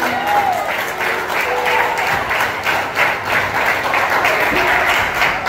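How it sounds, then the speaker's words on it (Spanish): A church congregation at a retreat in Baní claps and applauds continuously, a dense, sustained wash of many hands with faint voices underneath. "Dame un aplauso al Señor."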